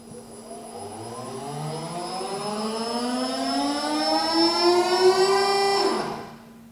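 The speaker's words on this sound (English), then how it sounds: "This noise was the motor revolving." Servo pump electric motor spinning up to its nominal 2000 RPM, a steady rising whine that climbs smoothly in pitch over several seconds, then abruptly stops near the end; no talking.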